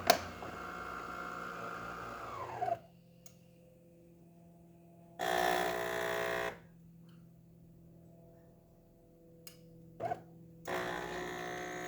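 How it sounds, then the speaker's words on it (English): A freshly serviced DeLonghi Gran Dama espresso machine brews a double shot: a low pump hum runs throughout, broken by several louder buzzing bursts of a few seconds each, with quieter gaps between them. "Now it's going to start to brew."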